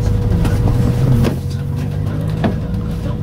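An MVV Setra S 531 DT double-decker bus driving, a loud, close low engine drone with a steady hum that eases slightly partway through, under faint background noise.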